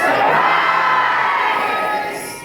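A loud crowd shouts together in a sudden cheer, sustained for about two seconds before fading slightly, near and energetic.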